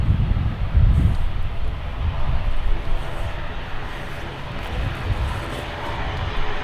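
An ATR 72 turboprop airliner at Manchester Airport drones steadily with a continuous low engine rumble and broad roar, heard from a distance outdoors without talk.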